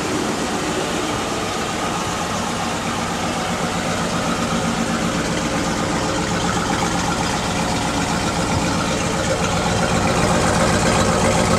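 A Chevrolet Z71 pickup truck engine idles right at the exhaust pipe, a loud steady rumble with a rapid pulsing beat, growing slightly louder toward the end.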